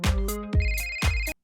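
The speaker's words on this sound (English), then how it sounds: "A split screen shows the man's phone ringing," A mobile phone ringtone rings in a café, three repeated electronic bursts in a steady rhythm, loud and close, then stops abruptly.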